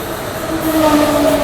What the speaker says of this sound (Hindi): ये आ गई अपनी एपी संपर्क क्रांति ओवरटेक करने के लिए